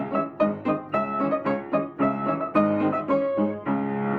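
A short, rigidly even march in the late-1800s style, with steady on-beat chords struck at a regular pulse over a low bass line. It plays loud and close with no talking over it.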